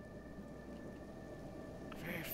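Acid rain falls in a video game, a steady hissing patter with a low rumble beneath, joined by a brief louder crackle near the end.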